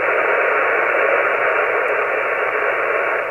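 Band noise from an Elecraft radio receiver with the KNB2 noise blanker switched in comes through as a steady, even hiss confined to the audio passband, continuous and fairly loud with no voices or signals.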